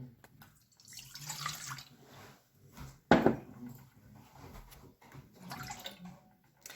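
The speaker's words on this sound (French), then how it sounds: "on va commencer par verser notre lait" Milk poured from a container into a mixing bowl for brioche dough, a soft splashing liquid stream with a sharper clunk midway, close and fairly quiet.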